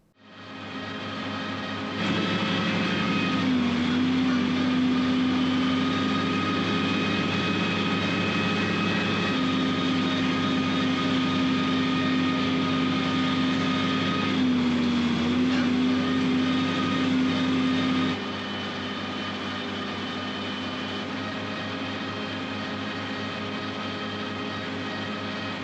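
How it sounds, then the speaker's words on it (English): Steady loud drone of a tractor pulling a mower through smooth third-cutting alfalfa in 6th gear, a constant engine roar with a rising and falling whine layered on top, easing slightly toward the end. "The mower's cutting good, and since the field is smooth, we're able to get into 6th gear."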